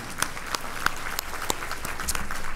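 Audience at a school district's State of the Schools address breaks into applause, a dense, building patter of many hands clapping with a few sharper individual claps standing out.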